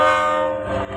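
A loud, sustained train horn sounds as a stage sound effect in an Assamese theatre drama, one long steady blast that fades slightly near the end.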